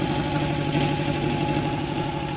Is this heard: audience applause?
no